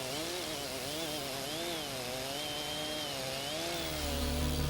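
Chainsaw cutting through a tree trunk on a slope, its engine droning steadily and loudly with a wavering pitch throughout, rising a little near the end.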